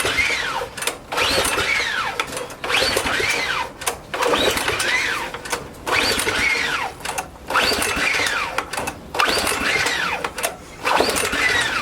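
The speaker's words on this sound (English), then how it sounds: "I gotta start another engine here" A small engine with choke out being started by pull cord, several loud repeated pulls each bringing a rising whirring crank, rhythmic bursts separated by brief pauses, close and without talk.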